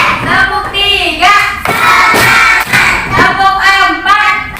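Children in a morning school assembly clap together in a counting clap game, bursts of group clapping mixed with loud unison chanting voices, close and lively throughout.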